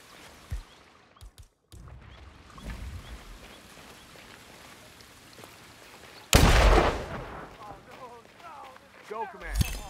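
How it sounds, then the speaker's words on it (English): In Hitman 3's Hokkaido level, scattered sharp pops sound over quiet game ambience, followed by one loud explosion blast that rumbles on for a couple of seconds, with a voice speaking near the end. "Someone is setting off explosions"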